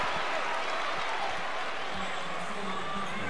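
A basketball arena crowd at a Kentucky vs Texas Tech game sends up a steady roar of cheering and applause, constant and broad, with sneaker squeaks and faint voices underneath.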